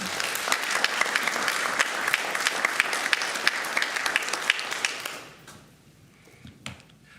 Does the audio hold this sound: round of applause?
yes